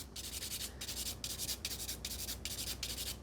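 A nail file smooths the free edge of a builder fiber gel nail in brisk, even back-and-forth strokes, about eight rhythmic scratchy passes close up, with no voices.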